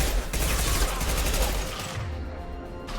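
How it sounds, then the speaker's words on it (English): An impact shot from the Mass Effect 2 video game, fired in the quarantine zone, bursts as a loud, dense rattle of gunfire that trails off into quieter ambient rumble. "Firing an impact shot."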